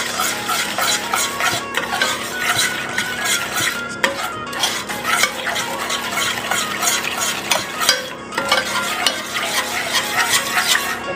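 Brown sugar melting into butter over low heat in a pan, with a utensil stirring and scraping steadily against the metal under a soft, constant sizzle; no one speaks.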